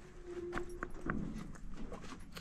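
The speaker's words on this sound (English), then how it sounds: "we have four horses in the trailer" Hooves of four horses shifting in a livestock trailer on a working ranch, a few loud clip-clop knocks and thuds close by, with a brief tonal hum in the background.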